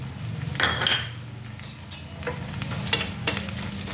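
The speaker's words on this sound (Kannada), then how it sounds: "ನಾನು ಈ ಅವಲಕ್ಕಿನೂ ಇದ್ರೊಳಗೆ ಕರಿತೀನಿ ನೋಡ್ರಿ" Thick flattened rice (poha) frying in hot oil, with steady bubbling and stirring clatter of a utensil against the pan, close and continuous with sharper scrapes throughout.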